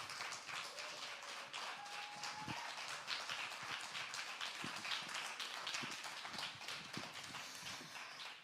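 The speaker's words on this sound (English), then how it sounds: "Keep the applause going." Dense, continuous clapping from an audience at a live poetry event, applauding the poets, with scattered sharp individual claps standing out throughout the steady applause.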